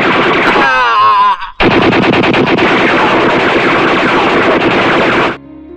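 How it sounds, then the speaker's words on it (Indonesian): Dense, loud bursts of rapid automatic gunfire from Dutch troops in a film battle, continuous rattling volleys broken by a brief pause, then cutting off abruptly. "Akibatnya mereka ditembak oleh pasukan Belanda."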